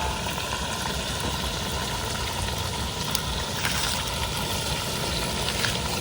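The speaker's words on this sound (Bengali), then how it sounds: "আলুটা দিয়ে একটু ভালো করে কষিয়ে নেবো," Potatoes and chicken sizzle in a pan while being cooked down for a Bengali-style chicken curry, a steady, close frying hiss that continues evenly without pause.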